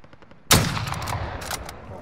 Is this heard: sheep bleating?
no